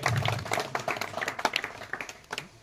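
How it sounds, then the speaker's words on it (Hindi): Audience clapping to welcome a village sarpanch at an inauguration ceremony in Radha ki Dhani, a dense run of handclaps that fades toward the end. "तालियों से भी आप स्वागत करेंगे"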